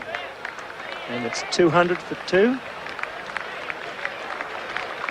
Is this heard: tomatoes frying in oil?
no